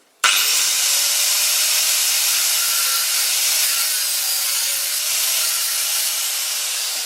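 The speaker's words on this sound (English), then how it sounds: "I don't have a belt sander, but I do have an angle grinder. So now I only have to cut this off nice and square." Angle grinder cutting through a soft drill bit: a loud, steady, close abrasive hiss that starts abruptly and holds continuously for several seconds, with no talking.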